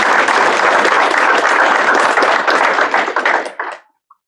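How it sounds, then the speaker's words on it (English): A room claps for a student at a career and technical education signing day, loud and close, a dense burst of applause that holds steady and then tapers off to a single last clap. "Let's give Jacob a nice round of applause"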